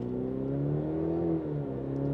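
A 2020 Cadillac CT5 with all-wheel drive launches from a standstill. Its engine holds a steady, close, mid-pitched drone through the full stretch and rises slightly in pitch as it pulls away, with no talking.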